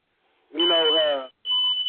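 A fire alarm sounds a piercing high electronic tone in two bursts, the first partly under a voice, loud and near.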